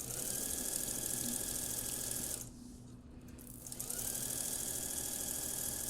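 Sewing machine stitching along piping pressed against the presser foot, a fast steady mechanical whir that pauses briefly in the middle and then resumes, close and alone.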